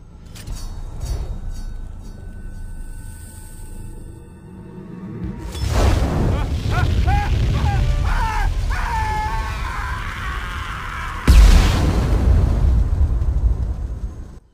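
Loud booming explosions and whooshing bursts from the video game Mass Effect 2, a sustained roar building after a quieter start with a sharp blast near the end.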